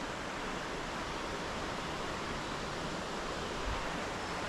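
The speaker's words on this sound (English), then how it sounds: "Fishing the Quinnebog River today." Flowing water of the Quinebaug River rushes in a steady, dense broadband roar, continuous and unbroken with no voices over it.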